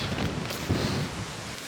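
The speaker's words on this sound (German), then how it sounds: "Es hört sich so super windig an." Steady, loud rushing wind roars and buffets throughout, with low gusty rumbling and no voices, in Lofoten, Norway.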